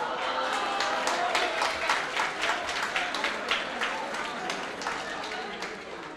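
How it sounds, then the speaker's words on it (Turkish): Audience applause fills a conference hall, dense and continuous at first and then slowly thinning out as the clapping fades toward the end. "Bu alkış bana mı?"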